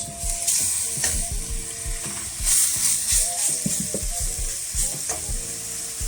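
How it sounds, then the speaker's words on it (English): Italian sausage sizzles and sautés in a pan for pork stew, with a steady frying hiss broken by repeated scrapes and clinks of stirring close by. "Now we're gonna add some Italian sausage to this."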